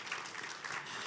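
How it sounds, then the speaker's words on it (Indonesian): A church congregation at a worship night gives a brief burst of applause, faint and distant, lasting about a second. "tepuk tangan dulu untuk Tuhan yang luar biasa"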